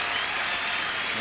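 A tennis crowd in Montreal applauds Agassi with dense, steady clapping from a large stadium audience.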